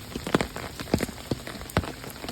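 Light rain falls in a faint, scattered patter of separate drops tapping a surface, with no voices.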